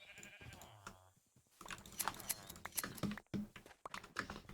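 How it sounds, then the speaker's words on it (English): Sheep bleat a few times in a video game, short calls standing out over busy game sounds and clicking, with a quiet stretch in the middle. "there's sheep right there now"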